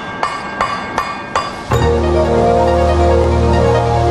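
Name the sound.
hammering a gold billet during forge welding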